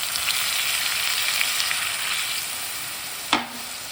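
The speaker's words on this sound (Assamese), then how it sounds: "এতিয়া অলপমান পানী দি দিওঁ মই" Chicken curry frying in a pan gives a steady loud sizzle, then water hits the hot oil near the end with a sudden sharp hiss that quickly settles.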